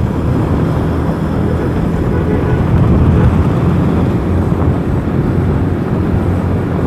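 Motorbike engine running continuously while touring on the road, its carburetor struggling and sounding heavy, a steady low rumble with wind noise throughout.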